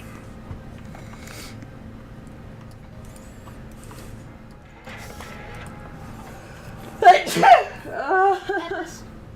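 A single loud sneeze from a person playing the game Timberborn bursts out near the end, following a stretch of quiet talk and game sounds, with a short noisy tail and a voice right after.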